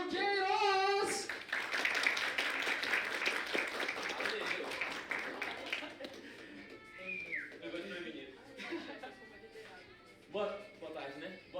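An audience at a marketing talk breaks into loud, dense applause welcoming a speaker, with whistles mixed in, then the clapping thins and fades as voices speak over it.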